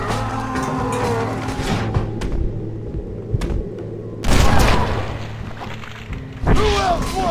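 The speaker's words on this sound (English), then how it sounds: "We're just gonna give her, like, as many shots as it takes." Gunshots in the Red Dead Redemption western game, a few heavy booming reports and thuds mixed with game sound and a voice talking.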